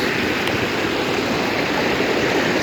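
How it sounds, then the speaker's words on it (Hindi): Small mountain streams and waterfalls on the Shrikhand Mahadev trek near Kunsha: a steady, dense rush of flowing water, constant and close, with no voices. "यहाँ पे झरने और ये छोटी छोटी नदियाँ ये चलती रहती हैं"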